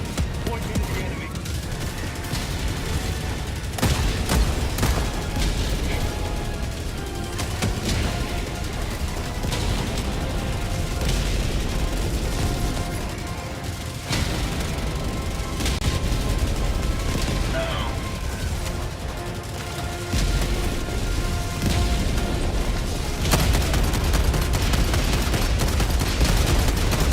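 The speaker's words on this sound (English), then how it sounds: "Sending in an eagle. Orbital inbound." Airstrike and orbital bombardment called in during a chaotic sci-fi shooter battle, a dense continuous roar of explosions and gunfire with sharp blasts near the 4, 14 and 23 second marks, voices shouting over it.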